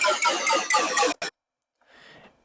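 Raw, unprocessed Wales bass synth patch: a run of bright, buzzy, rhythmic bass stabs, then a short cut-off note and a fainter, softer tail, alone with no voice.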